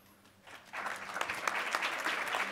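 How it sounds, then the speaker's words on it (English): An audience at the #BOOM 2014 conference event breaks into applause, starting quietly and swelling into steady, dense clapping that continues to the end. "give him a round of applause"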